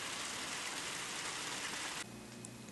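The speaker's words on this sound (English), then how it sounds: "It's raining right now" Steady rain falls outside in a dense, even hiss that drops abruptly to a quieter patter partway through.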